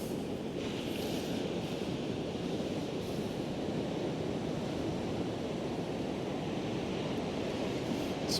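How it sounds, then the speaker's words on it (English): Sea waves at Happisburgh cliffs wash in as a steady, broad roar with no clear breaks between them, and some wind is mixed in throughout. "Some nice waves rolling in out there."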